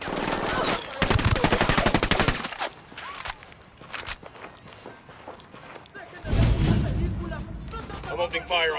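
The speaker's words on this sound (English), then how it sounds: "I'm opening fire on these shitheads." Gunfire in Ghost Recon Wildlands: a loud burst of rapid automatic fire, scattered shots and footsteps, then another heavy sustained burst, with a voice speaking at times over the noise.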